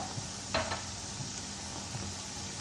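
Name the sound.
beef liver sizzling as it is roasted in a karahi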